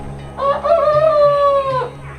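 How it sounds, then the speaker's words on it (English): A backyard rooster crows in the morning, a single drawn-out cock-a-doodle-doo, loud and close, with no talk over it. "My rooster's been trying to get better at cock-a-doodle-dooing in the morning."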